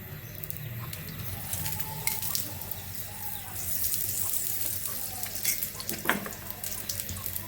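Paratha frying in a pan, a soft steady sizzle with light crackles and a few louder pops, heard at close range and fairly quiet.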